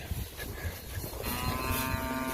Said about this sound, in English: These cows are anxious now.